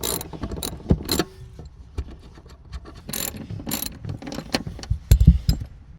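Screws on a Range Rover L322 seat are undone with a ratchet, giving close, sharp bursts of clicking separated by short pauses, with metallic taps and tool knocks in between.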